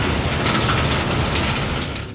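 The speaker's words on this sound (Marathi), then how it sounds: "नायगाव तालुक्यात रात्रीपासूनच जे आहे ते मुसळधार पाऊस या ठिकाणी बरसत आहे" Heavy monsoon rain pours steadily during flooding in Naigaon taluka, Nanded, Maharashtra, a dense, loud, continuous hiss with no voices over it.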